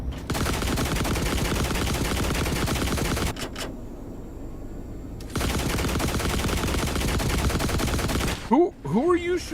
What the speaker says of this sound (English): Who are you shooting at? Who told you to shoot?